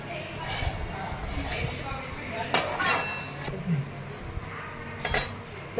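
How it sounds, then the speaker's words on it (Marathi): Leftover chapati pieces are stirred and tossed in a pan, with scattered metallic clinks of a utensil against the pan and soft scraping under a continuous background hiss. "आता छान परतून घ्यायचे."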